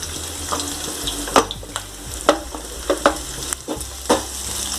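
Vegetables and chillies sizzle steadily in hot oil over a low flame while a utensil stirs and scrapes the pan in irregular knocks, close and clear.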